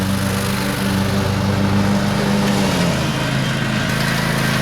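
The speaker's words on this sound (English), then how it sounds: "And he is mowing as he goes." A riding lawn mower mows grass while hauling hay down to a garden, its engine droning loudly and steadily from start to finish.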